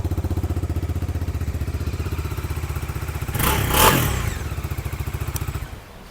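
A motorcycle engine idles close by with a steady, loping pulse, briefly swelling as a rushing noise passes, then settling back before cutting quieter.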